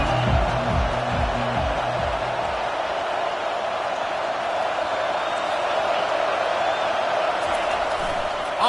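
Steady roar of a stadium crowd at a football game, loud and continuous throughout, a broad wash of voices with a brief voice heard near the start.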